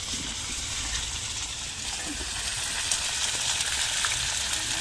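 Meat cooking in a pot on a clay stove, a steady moderate sizzling and bubbling hiss that grows slightly louder toward the end, heard close with no talking.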